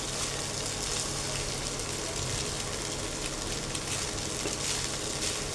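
Flattened rice stir-frying with vegetables in a pan gives a steady, even sizzle with a fine crackle throughout, with no talking over it.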